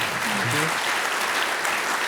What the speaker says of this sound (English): Give them a warm round of applause again